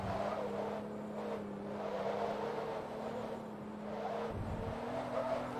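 Renault Clio in Forza Motorsport 2 sliding over a crest as the rear breaks loose, a steady droning engine note with faint tire scrub, continuous and close throughout.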